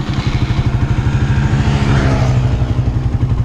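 A Suzuki Intruder 125 motorcycle engine with the motor warm runs steadily at close range, giving a loud, even low chugging pulse that holds throughout with no voices.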